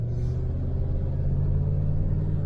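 A van rolls through town traffic with a steady, loud low engine and road rumble heard from inside the cab, unbroken throughout.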